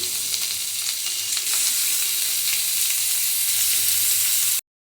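Tomato pieces added to softened ivy gourd pieces frying in oil in a pan, producing a loud, steady close sizzle that swells slightly after the addition and then cuts off abruptly.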